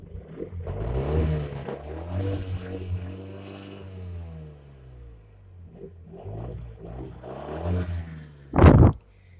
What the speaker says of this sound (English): I'm gonna go give it some gas, and we'll listen to the exhaust.